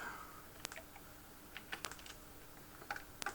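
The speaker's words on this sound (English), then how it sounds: "Sorry, my keyboard membrane's a little old." Keys pressed on the aging membrane keyboard of a Spectravideo SV-318 home computer give a sparse, uneven series of faint clicks and taps, quiet and close, with no talking.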